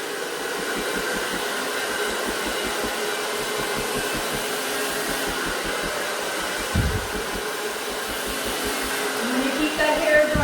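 A hair dryer blows steadily and close up, a constant whooshing roar with a faint pulsing beneath, briefly shifting in pitch partway through.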